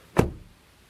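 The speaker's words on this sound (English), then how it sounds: "Then the door closing sound." The door of a 2023 Honda Civic Hybrid shuts with one solid, close thud that dies away quickly into quiet, with no one talking.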